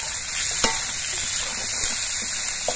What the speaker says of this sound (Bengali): এবার এর মধ্যে আমি দুটো বড় সাইজের কোচানো পেঁয়াজ দিয়ে দিচ্ছি।